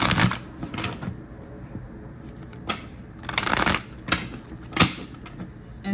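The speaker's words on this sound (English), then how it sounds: "Let's pull some cards here." Tarot cards being shuffled close up, with repeated crisp riffling bursts and soft flutters separated by short pauses.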